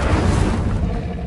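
Incendio fire spell cast in the Hogwarts Legacy video game, a loud, close whooshing burst of flame with a booming, rumbling body that holds briefly and then fades.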